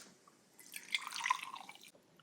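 Sparkling water poured over ice in a non-alcoholic drink, a close, trickling pour with fizzing and crackling ice lasting about a second, quiet and without talk.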